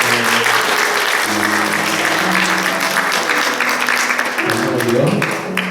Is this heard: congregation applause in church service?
yes